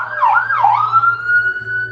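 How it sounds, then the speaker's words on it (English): A wailing emergency siren sweeps up and down in pitch, loud and fairly close, then holds a steady high tone. "You guys hear the sirens"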